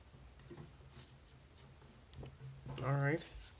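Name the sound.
folding and creasing origami paper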